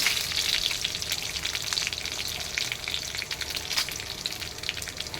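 Dried red chillies fry in hot oil with a steady, close crackling sizzle and dense spitting pops throughout, no voices.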